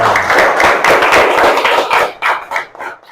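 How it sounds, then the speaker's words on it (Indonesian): Students in a classroom clap for a presenting group, a close, loud burst of hand claps that thins into a few scattered final claps. "Kasih tepuk tangan untuk kelompok Umar bin Khattab."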